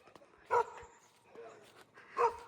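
Two sharp dog barks ring out in a village in Ramechhap, Nepal, spaced about two seconds apart, fairly close, with quiet scuffling in between.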